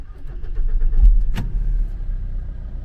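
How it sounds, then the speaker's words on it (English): A 2006 VW Passat engine turns over and settles into a steady, close low idle rumble, with a brief surge near the middle and no talk over it. "Let's start again the car."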